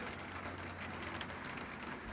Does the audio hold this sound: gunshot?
no